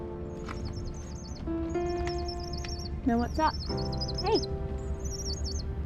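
Small birds give repeated high, wavering chirps and trills on a rocky New Zealand coast, close and clear, with a few scattered calls over soft background noise while a person speaks briefly.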